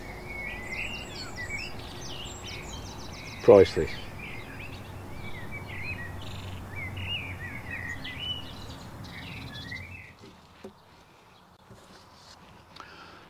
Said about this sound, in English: Sometimes it's nice to just have a sit down after you've done a bit and just listen to the birds singing.